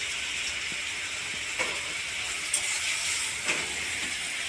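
Meat sizzles steadily in a pan during a Sunday special home cooking session, a soft, continuous hiss with a few faint clicks and stirring knocks, heard alone without talk.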